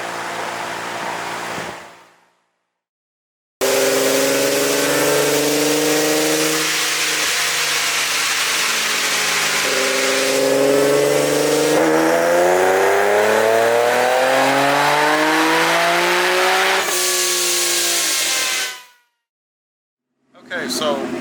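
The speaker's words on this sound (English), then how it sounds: "So we're going to start making pulls now, first on pump gas" Supercharged Nissan 370Z on a dyno running pump gas, revving hard through a long pull with climbing whining engine tones and supercharger whine, loud and close, cutting off abruptly at the end.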